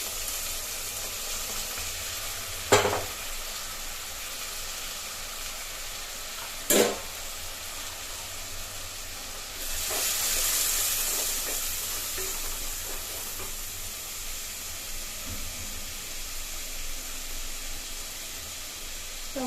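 Chicken with tomatoes sizzles softly in a clay pot, a steady low hiss with a few sharp clanks of a utensil against the pot and a swell of steam partway through.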